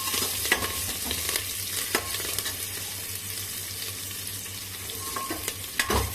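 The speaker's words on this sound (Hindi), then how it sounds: "यहीं पे हम हरा मिर्चा भी डाल देते हैं। आप अपने स्वाद के अनुसार डालिए। इन सबको अच्छे से भून लेते हैं।" Green chillies fry in an oily pan while being stirred, giving a steady, loud sizzle broken by a few scraping knocks of the spoon. No one speaks.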